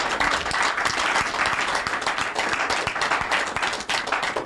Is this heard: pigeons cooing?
no